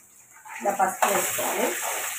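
Chicken curry with tomatoes is stirred in a pan, giving soft scraping and sizzling sounds that swell mid-way and continue steadily, with no talk.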